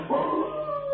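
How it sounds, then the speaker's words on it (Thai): A single drawn-out dog howl rises and wavers in a village, a brief, fairly clear tonal wail with no voices over it. "เสียงหมาหอนก็หายไปด้วยนะครับ"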